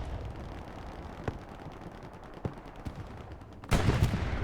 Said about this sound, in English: When the satchel explodes